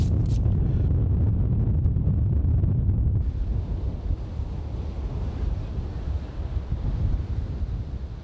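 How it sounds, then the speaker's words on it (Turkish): Stormy Black Sea waves and strong wind hit the shore, a heavy, continuous rumble of surf and wind buffeting the microphone that eases slightly after a few seconds, with no voices. "Dalgalarda, fırtınalarda, bugün olduğu gibi Karadeniz bunları atar kıyılara."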